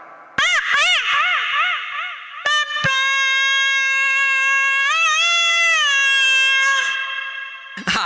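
A voice imitates a valaga, a reed wind instrument played at weddings, with quick wavering bends at first and then a long, loud, sustained nasal tone that wobbles slightly before ending.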